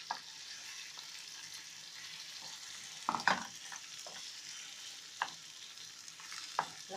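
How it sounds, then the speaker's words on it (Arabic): Eggs being stirred with soft ajwa dates in melted butter in a pan, with a low steady sizzle and a few sharp scraping clicks of the spoon. "هنزل عليها ببيضتين وهقلب"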